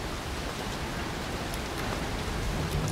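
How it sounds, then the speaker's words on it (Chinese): Rain and storm in the video game The Evil Within make a dense, steady hiss of downpour with no voices over it. "下雨又下雪"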